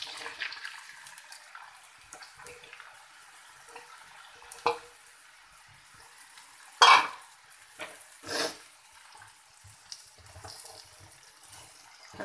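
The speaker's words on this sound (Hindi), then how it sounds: "हमने अब इसके अंदर इस टाइम ये जो आलू कटिंग किए थे ये डाल देंगे।" Cut potatoes drop into a pan of cooking potato-egg masala, producing a few sharp splashy clatters and a brief scrape over a quiet background, with no sizzle dominating.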